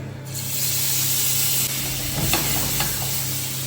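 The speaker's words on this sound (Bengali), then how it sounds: "এই মাছটা আমি এই দিয়ে দিলাম ফ্রাই" Marinated flathead (bele) fish frying in hot oil over full heat, a steady close sizzle and hiss with a few brief clatters of the pan partway through, with no one speaking.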